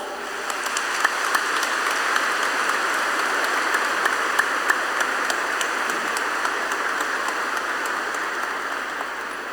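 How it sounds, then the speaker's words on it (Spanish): A church congregation breaks into sustained applause, a dense, steady wash of many hands clapping together at a distance, even in level throughout with no talk over it. "Hoy le damos un fuerte aplauso a la iglesia que está de cumpleaños."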